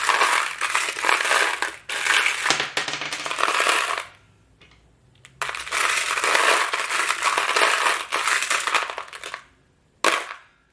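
A handful of small tarot charms is shuffled and jostled together in two long bursts, a dense clinking, crunching rattle that drops to near silence between them and ends in a short final clatter.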